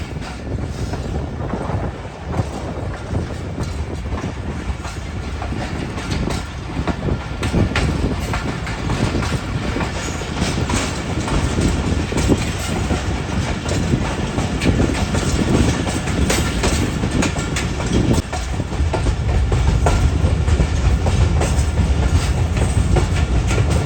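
The Bolan Mail passenger train rolling from Sehwan to Karachi, heard from on board as a steady rumble with rhythmic clickety-clack of wheels over rail joints and wind buffeting, growing heavier near the end.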